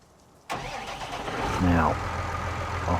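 A Case tractor engine in Farming Simulator 19 cranks and fires up abruptly, then settles into a steady mid-pitched idle close by, with a brief voice over it.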